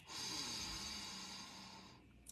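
A person breathing in deeply during a guided relaxation exercise, one long, airy, close inhale that slowly fades and then falls almost silent.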